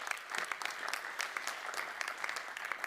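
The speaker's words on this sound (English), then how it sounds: "Applause." Dense clapping from an audience at a startup talk event, steady and sustained throughout, with no voices over it.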